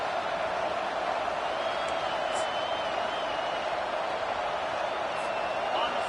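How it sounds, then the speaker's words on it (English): A home football crowd roars loudly and steadily throughout a game, a dense continuous wall of cheering with a voice over it. "how nice is it to have the home crowd going absolutely bananas"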